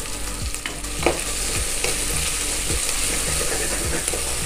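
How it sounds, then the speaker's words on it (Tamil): Onions with ginger and garlic sautéing in a pan for coconut milk rice, a loud continuous sizzle with regular scraping strokes of a spatula roughly every half second, close up and without talk. "இது எல்லாத்தையும் சேர்த்து நல்லா வதக்கி விடுங்க. வெங்காயம் நல்லா வதங்கணும்."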